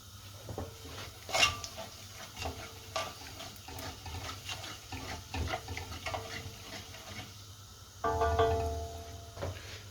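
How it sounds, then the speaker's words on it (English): Chili flakes are stirred through hot oil in a pan for a budget Birmingham balti, with quiet scraping and clinks of a utensil, soft sizzling, and a brief louder swell near the end. "we're going to add the chili flakes and just stir them in the hot oil"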